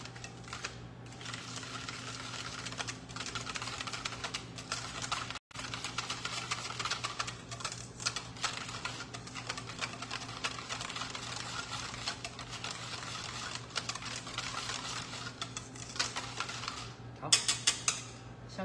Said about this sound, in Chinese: 把它搅拌均匀